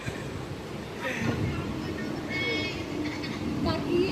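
A continuous rumble of a moving Mumbai local train carriage bound for CST fills the clip, with faint voices and some metallic squeals in the background.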